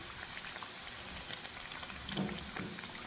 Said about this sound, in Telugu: పాన్ చేస్తున్నాను బాగా ఫ్రై అవుతున్నాయి